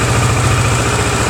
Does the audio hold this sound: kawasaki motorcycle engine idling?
yes